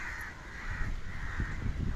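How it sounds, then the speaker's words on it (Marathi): Crows caw repeatedly at a distance at Sindhudurg Fort, their harsh calls overlapping into a faint, continuous chorus. "कावळेच कावळे"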